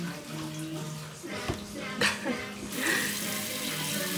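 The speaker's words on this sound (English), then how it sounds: "Turn the water off." Water runs steadily from a tap into a basin, a continuous splashing rush that grows brighter and louder toward the end, with faint background voices.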